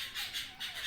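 Pet king parrots give a short series of harsh, close squawks, three pulsing calls in under a second with no voices over them.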